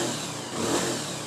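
A Bajaj Pulsar motorcycle engine runs after a self-start, a steady, loud, close mechanical drone that swells slightly in the middle of the short stretch, with no voices.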